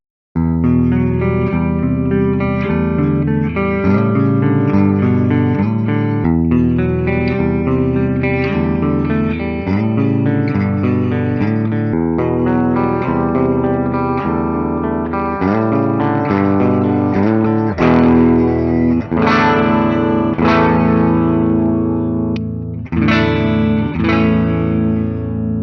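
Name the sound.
Gibson Flying V electric guitar with ceramic pickups, clean tones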